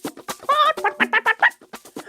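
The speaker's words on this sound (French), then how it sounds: "une poule qui cherchait à manger remarqua le biscuit" A hen in a French storybook narration about the gingerbread man gives a run of close, bright clucks and short squawking calls in quick uneven bursts, with no talking over them.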